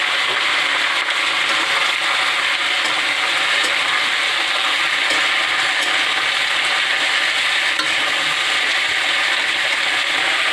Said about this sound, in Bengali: কেটে ধুয়ে রাখা সবজিটা আমি এর মধ্যে দিয়ে দিলাম।